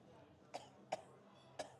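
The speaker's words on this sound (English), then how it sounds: "I'm glad that you're coughing over there, sir" Three short, sharp coughs from a man spaced unevenly apart, fairly close, against a quiet room background.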